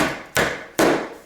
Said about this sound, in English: Give it a little tap.